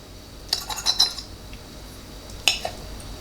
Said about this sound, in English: I'm just gonna use the fork to just separate a piece there